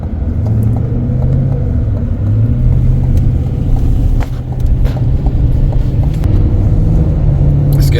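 Steady road traffic in Pula, Georgia, with passing cars rumbling close by in a continuous low drone and no clear breaks, under a faint background murmur.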